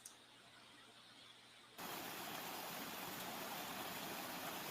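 Flowing water, a steady broadband rush like a stream or waterfall that suddenly gets much louder partway through and then continues evenly with no voices.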